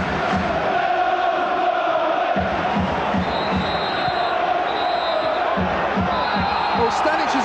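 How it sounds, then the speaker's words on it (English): Tottenham supporters chanting at a Spurs vs Chelsea Worthington Cup semi-final in 2002, a loud, continuous stadium roar and rhythmic chant, with a commentator talking over it. "Ben Hoddle's blue and white army is the crowd, is the shout from the crowd."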